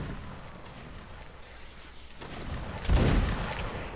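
A line of muskets fires in the Napoleonic battle game Mount and Blade: Napoleonic Wars, a single loud crackling burst of volley fire rising out of a quiet murmur of distant battle.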